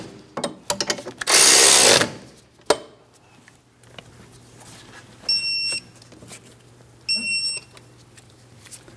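A power tool snugs the rear caliper bracket bolts on a 2003–2007 Cadillac CTS, with one loud sustained whirring burst and short clicks close by, followed by two pairs of high electronic beeps.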